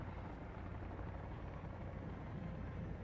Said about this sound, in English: Oh, look, it's a helicopter.